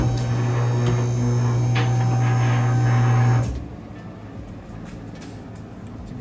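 A vehicle lift's electric motor hums steadily and loudly as it raises a Dodge Charger body off its HEMI engine, then cuts out abruptly after about three seconds, leaving a quieter shop background.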